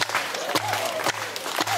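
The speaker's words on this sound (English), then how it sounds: "Clap along with me." An audience at a Samoan cultural presentation claps along in a steady rhythm, with sharp periodic beats over a background of crowd noise and a sustained low hum.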